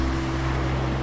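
Sea waves wash in a steady, dense rush on the Barcelona shore, with a low rumbling hum underneath that may be a passing boat.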